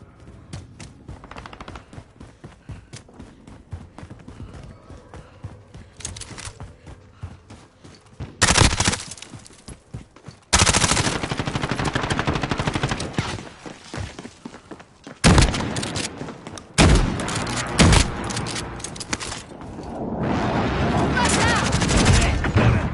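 Gunfire in a Call of Duty-style video game, scattered distant shots giving way to loud sustained bursts of automatic fire and booms, with voices faintly under the shooting.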